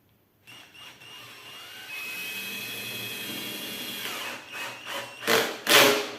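A power drill whirs steadily at close range, its pitch rising and straining, then a few louder bursts of grinding as the bit bites into wood.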